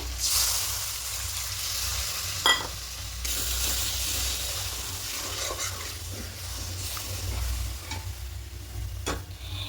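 Loud, steady sizzling of spices frying in a hot pan with a brief splash early on as water is poured in, then stirring and scraping sounds as the frying continues.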